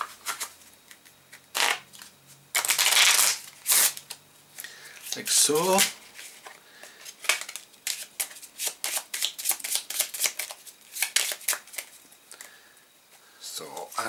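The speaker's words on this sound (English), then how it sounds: "These cards are then taken and shuffled." Cards from the One Deck Dungeon board game being shuffled up close, with quick riffling bursts and flicking, then a longer stretch of rapid card slapping and handling; someone speaks briefly at one point.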